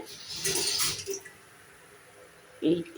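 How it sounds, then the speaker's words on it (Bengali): Water is poured into a cooking pot, a brief close splashing rush followed by a quieter lull and a short final splash. "এবার এর মধ্যে একটু জল দেব।"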